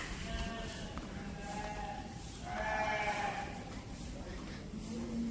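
Several sheep bleat at a farm in a livestock unit at the GKVK agricultural campus in Bangalore, wavering calls rising in the middle against a low background murmur.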